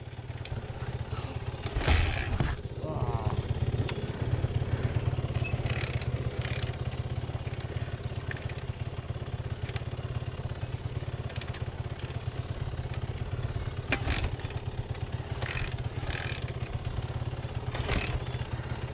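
An engine run on half choke settles into a steady low idle with a throbbing rumble, broken by occasional clattering knocks and scrapes nearby for the whole stretch.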